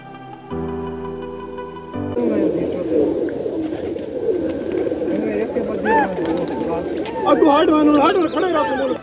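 A flock of around 80 caught pigeons coo and flutter nearby while someone talks over them, with a brief tonal sound at the start.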